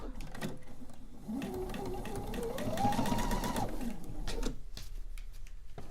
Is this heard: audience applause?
no